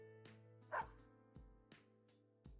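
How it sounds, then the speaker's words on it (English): A dog barks several times in Persona 4 Arena Ultimax: four or five short, sharp yips spaced unevenly over a sustained musical backing, fairly close and moderately loud. "The dog barks."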